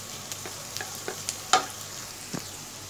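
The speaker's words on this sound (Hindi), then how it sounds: "3 से 4 मिनट तक अच्छे से सौते कर लिया है" Mixed vegetables sautéing in a pan on a gas stove for white sauce pasta give a soft, steady sizzle with scattered crackles and pops, one sharper pop standing out midway, quiet and close.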